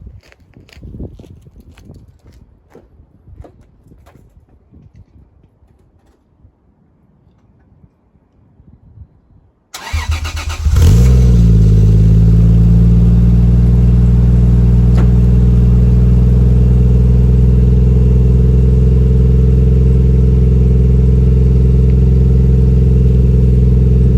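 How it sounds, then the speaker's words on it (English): A Toyota JZX100 Tourer V fitted with an HKS Silent Hi-Power exhaust starts up. Quiet ticking and clicking come first, then the engine cranks and catches and settles into a loud, steady, close idle. "we're gonna do our first startup with the new HKS silent high power exhaust"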